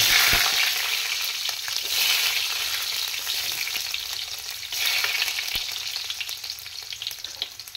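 Garlic sautéing in a pan for a vegetable stir-fry, a loud continuous crackling sizzle with occasional spatula scrapes and knocks, no voices.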